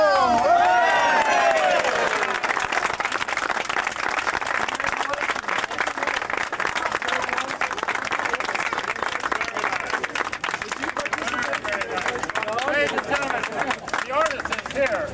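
Outdoor crowd, including children, cheering and clapping loudly at an artwork unveiling at a bus terminal, dense and sustained throughout with shouts and voices mixed in.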